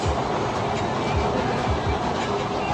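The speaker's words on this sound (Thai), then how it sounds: "นี่รถไฟมาอีกแล้วนะทุกคนดู" A train rumbles past close by in Salaya, Nakhon Pathom, Thailand, steady low roar with rhythmic clacking of wheels over rail joints throughout.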